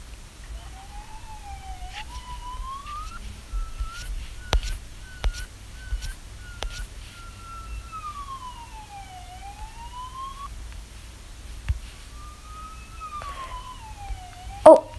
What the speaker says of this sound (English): Oh, I hear the ambulance.